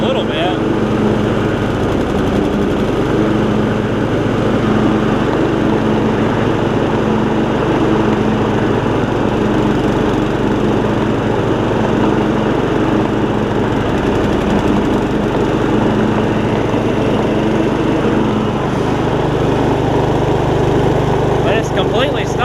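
A Yard Machines riding mower with its blades engaged, engine running loud and steady with a rough, rattling drone throughout, close by.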